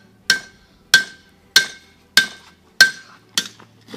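Hot metal being forged under a hammer gives six sharp, ringing strikes spaced evenly about half a second apart, each with a bright metallic clink that fades quickly, close and loud, with no talking.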